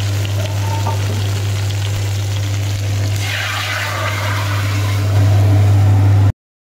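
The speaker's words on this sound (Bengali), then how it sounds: "আর একটু পাঁপড় ভাজবো" Papad (poppadom) frying in hot oil in a home kitchen, a steady close hiss and bubbling sizzle that swells louder near the end, running alone without talk.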